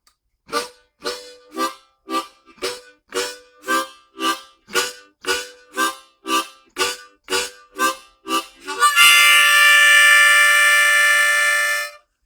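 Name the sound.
harmonica imitating a train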